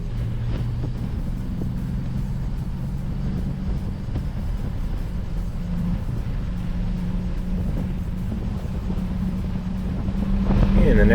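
A low-horsepower car laps the Watkins Glen race track, its engine droning steadily and loud from inside the cabin with a low tonal hum, swelling louder near the end.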